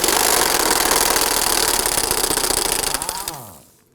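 An impact gun hammers loose a bolt on a 2005-2009 Subaru Legacy 2.5L H4, a loud, close, rapid rattling burst lasting several seconds before winding down and stopping.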